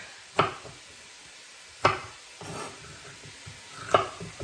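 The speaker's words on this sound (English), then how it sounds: "put it in with our hamburger that's starting to cook" Hamburger meat and chopped onion cook in a pan, with a low sizzle under three sharp utensil scrapes and knocks spaced about two seconds apart, close and moderately loud, no talking.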